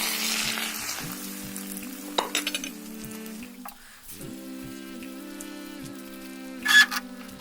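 Beaten egg frying as a fluffy omelette for an egg shami burger sizzles steadily in a pan, a constant crackling hiss with a low tonal hum running beneath it and a brief louder flare near the end.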